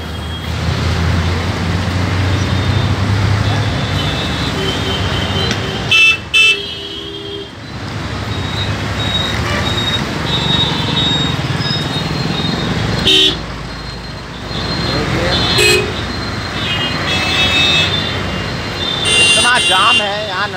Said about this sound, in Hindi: देखिए कैसा ट्रैफिक चल रहा है, कैसा ट्रैफिक आ रहा है।